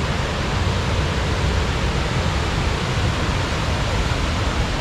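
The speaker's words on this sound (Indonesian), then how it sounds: "Dia ada satu air terjun kat situ." Waterfall on the Lata Jebus river at a campsite near Sungai Pertak, Kuala Kubu Bharu: a loud, steady, broadband roar of falling water, unbroken and close, with no voices.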